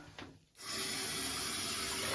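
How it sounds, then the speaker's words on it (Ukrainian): Running tap water pours steadily while items are rinsed: a quiet start, then a sudden, continuous full hiss and splash of the stream that stays loud and constant, close by, without speech. "ще проточною водичкою промиваємо"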